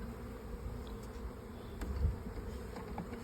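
Honeybees buzzing around an open hive box, a dense low droning hum from many bees that stays steady and close, with a faint thump midway and no talking.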